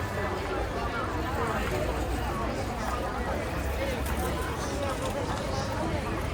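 Busy crowd chatter at the Melbourne flower show, a steady murmur of many voices blending into a continuous outdoor babble near a Ferris wheel and tulip displays.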